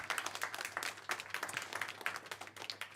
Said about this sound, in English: Big round of applause for our jury tonight.